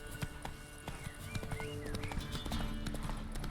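Geralt's horse Roach from the video game The Witcher 3 moving at a gallop, with steady, rhythmic hoofbeats close by over a busy background of game sound and no speech.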